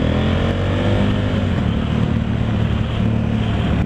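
A KTM 1290 Super Adventure motorcycle engine drones steadily while riding, a constant loud low rumble mixed with wind noise and no breaks.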